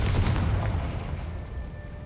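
A Confringo blasting spell in Hogwarts Legacy goes off as a heavy, close boom that rolls and fades into a rumbling decay over a couple of seconds.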